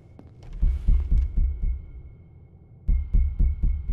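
A steady, low throbbing heartbeat in the horror video game Beyond Hanwell, pulsing in regular double thumps under a faint high hum, pausing briefly before resuming.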